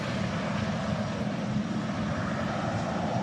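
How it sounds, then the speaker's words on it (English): EasyJet airliner touching down on a windy day at Manchester Airport, a steady broad jet roar at moderate distance with no distinct pauses. "And just touching down, an EasyJet in from Palma de Mallorca."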